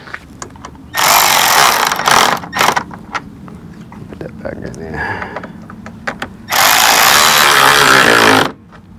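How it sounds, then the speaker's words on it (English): A power tool driving screws into a Morimoto XB LED headlight housing on a 2020+ Ford Super Duty, with two loud sustained whirring bursts, a few short blips between them and a voice talking quietly in the gaps. "We'll get the screws and screw that in."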